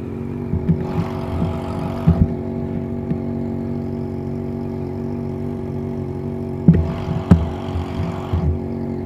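A car engine idles steadily close by, then revs in two sharp bursts, one early and one near the end, with small throttle blips between them and no talking.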